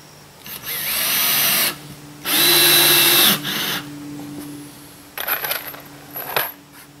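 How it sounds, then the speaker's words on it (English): A power drill drives screws into a tiny house kitchen floor. Two long, high whirring runs come close together, then several shorter spurts with soft clicks between them, all close and loud. "screwing down the kitchen floor."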